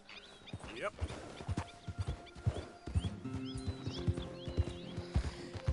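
Horse hooves clip-clop in a steady trotting rhythm in a PS4 game, with a brief whinny, while a person talks over the sound.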